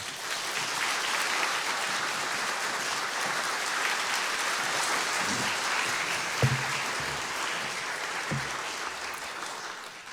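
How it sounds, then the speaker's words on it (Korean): A church congregation gives sustained, enthusiastic applause to welcome a pastor, steady dense clapping throughout with a few louder thumps near the end. "박수"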